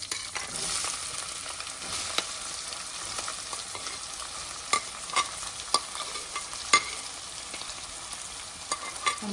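Onions with green chillies and dry spices frying in a pan, a continuous hiss of sizzling oil broken by repeated clicks and scrapes of a stirring spoon, close and without voices.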